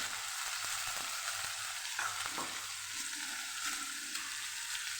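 Cut potatoes fry in hot oil tempering for a Kathiyawadi okra-potato curry, giving a steady close sizzle with a few clicks and scrapes of stirring, no talking.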